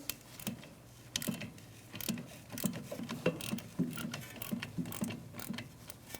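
Small clicks and ratcheting taps from a Torx T30 bit loosening thread-locked brake caliper mounting screws on a Jeep Renegade, quiet and close, with a faint mechanical rhythm.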